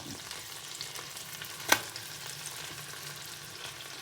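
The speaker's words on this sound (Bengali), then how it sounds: "চিকেনের যে স্কিনটা আছে সেটাকে আমি ক্রিস্পি করে ভেজে নেব" Chicken pieces with the skin on fry crisp in hot oil, a steady low sizzle running throughout with one brief sharp clatter near the middle, close and fairly quiet.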